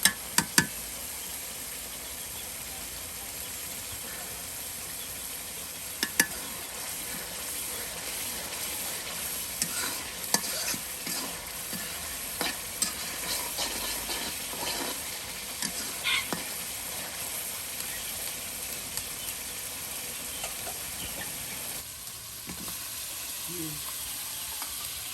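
Spice paste with chopped onion and garlic sautés in a pot for an Eid mutton curry, giving a steady close sizzle with occasional stirring knocks and scrapes.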